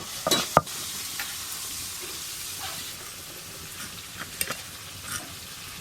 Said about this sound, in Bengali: প্রথমে চিংড়ি মাছগুলো ভেজে নেব